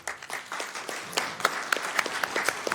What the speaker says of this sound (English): A big round of applause for Child Action.